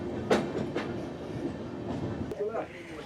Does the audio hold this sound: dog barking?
no